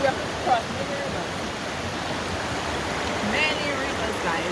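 A rushing rainforest river on the Syndicate Falls hike in Dominica, a steady broadband rush of flowing water, with faint bird chirps and occasional rustling nearby.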